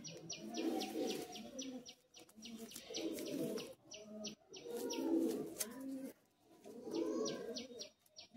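Madras pigeons brought from Chennai cooing nearby, repeated rolling throaty coos in bursts of a second or two, with faint chirps and a high thin insect-like buzz in the background.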